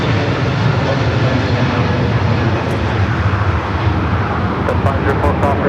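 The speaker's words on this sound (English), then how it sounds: "our next arrival is Japan Airlines A350-1000" A Japan Airlines Airbus A350-1000 arriving at LAX from Tokyo Haneda fills the air with a loud, continuous engine roar that holds steady throughout.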